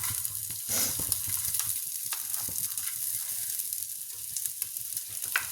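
Grated coconut dry-roasting in a pan for a Kerala fish curry, giving a steady close sizzle and crackle with occasional scraping stirs, no voices.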